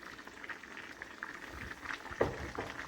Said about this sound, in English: stir this in and let it simmer for 10 minutes